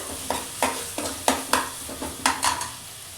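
Onions frying in a pan on a high gas flame, with a quick series of sharp stirring scrapes and sizzle bursts close up, repeating roughly every half second, no talking.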